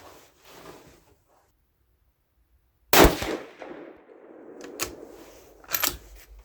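Rifle shots from a 6mm ARC loaded with Hornady 65gr V-MAX, with one sharp loud report followed by several quicker cracks and clicks in an otherwise quiet outdoor setting.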